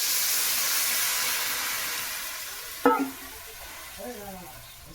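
Water poured into fried pumpkin greens in a hot pan, a steady hiss of frying that breaks into a sudden sharp sizzling burst, then a brief clatter as it settles.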